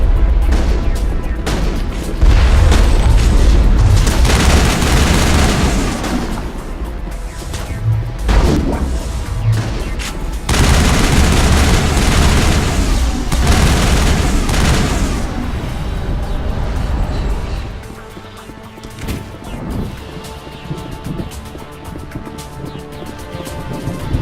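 A large gun fires in Mass Effect amid sustained heavy booms and crashing explosions, loud and dense for most of the stretch before thinning out near the end.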